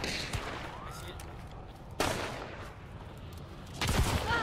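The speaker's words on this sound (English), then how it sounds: "Why are you trying to shotgun them?" Shotgun fire in Hunt: Showdown: three sharp, heavy blasts about two seconds apart, each fading into a dull ambient tail.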